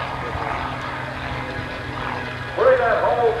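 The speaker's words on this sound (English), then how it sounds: "That beautiful performance in the gyrocopter" Ken Brock's gyrocopter flies at the Oshkosh 1989 airshow, its rotor and engine a steady medium-distance drone beneath an announcer's amplified voice over a public address system.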